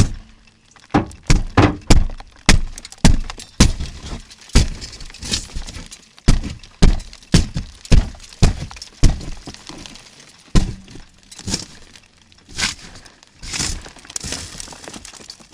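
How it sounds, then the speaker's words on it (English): A series of sharp, heavy thuds and cracks as car window glass is struck and shatters after a police PIT maneuver, repeated blows in irregular rhythm, close and loud. "This glass is about to come raining down on you."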